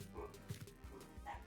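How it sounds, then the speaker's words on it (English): Dogs bark and yip faintly in a few short, scattered bursts, distant and quiet, with faint talk underneath. "And my dogs are barking."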